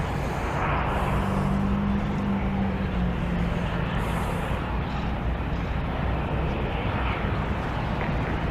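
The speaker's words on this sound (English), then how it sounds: "We'll be getting a visual here on the Southwest aircraft in just a moment" A Southwest airliner approaching to land at CMH, its engines giving a steady, continuous roar with a brief low drone early on, heard from a distance over constant broadband rumble and wind.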